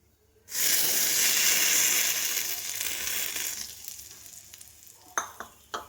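Hot mustard-seed tempering hits a peanut chutney with a sudden loud sizzle that slowly fades, followed by a few sharp spoon taps against the pan or bowl near the end.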